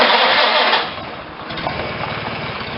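An old small engine on a vintage pony tractor sputters into life, a loud rough burst that drops to a steadier, quieter running chug, with no talking.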